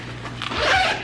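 A tote bag is zipped shut in one short, quick pull, the zipper's scratchy rasp rising over about a second, close and clear with no talking.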